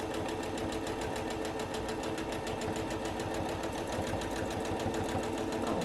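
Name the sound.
sewing machine stitching during free-motion quilting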